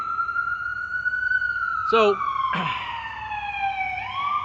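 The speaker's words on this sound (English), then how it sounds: "the ambulance coming to take me away" An ambulance siren passes by near a retirement home, a loud steady wailing tone that slides down in pitch, with brief speech in the middle.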